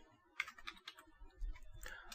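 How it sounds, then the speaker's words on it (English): Keys being struck on a computer keyboard while a command is entered, a quick run of light, close clicks in short irregular bursts, quiet and alone. "So I'll go ahead and type CeWL space -w space custom"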